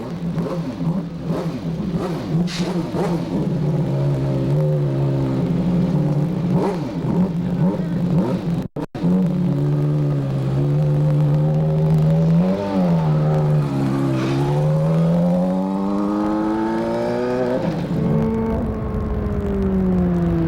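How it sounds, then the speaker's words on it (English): An IndyCar race car driven by Nigel Mansell runs on a circuit, its engine droning loudly with rising and falling revs through gear changes and a sweeping climb in pitch, with no talk. "After a few final adjustments, Mansell took to the track"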